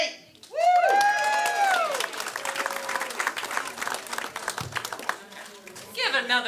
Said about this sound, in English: Give another loud round of applause for Teresa, everybody.